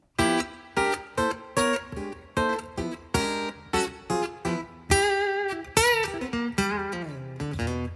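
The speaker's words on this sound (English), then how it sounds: "And I'm also using this glorious reverb device." Electric guitar through a reverb pedal: rhythmic stabbed chords, then sustained notes that ring out and linger with a spacious tail.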